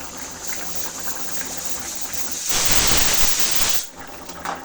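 A pot of bottle gourd and potato curry simmers, a steady close hiss and bubbling that surges louder for about a second and a half before settling back.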